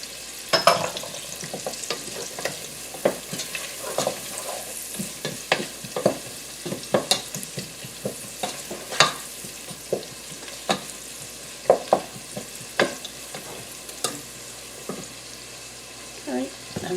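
Cabbage softening in a pan for kielbasa and cabbage sizzles quietly and steadily while a utensil scrapes and taps repeatedly, breaking up the vegetables in irregular bursts.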